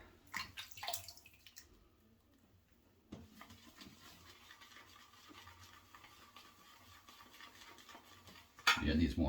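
Water is added to shaving soap lather in a Captain's Choice bowl, giving a faint, close trickle and gentle stirring that end in a louder burst of splashing.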